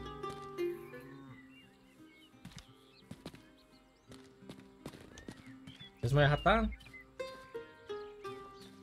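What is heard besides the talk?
horse in the video game Rustler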